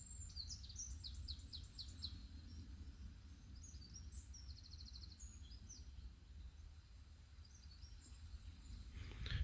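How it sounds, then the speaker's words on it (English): Small birds sing and chirp in a nature reserve, several high twittering phrases overlapping in quick bursts over a low, steady outdoor background with no voices. "it's absolutely full of bird sound"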